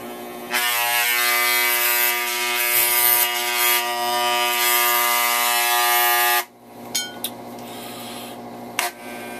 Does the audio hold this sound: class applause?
no